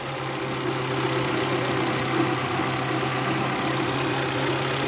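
A car engine idles steadily at close range, a constant low rumble with a faint mechanical hum and no change in revs.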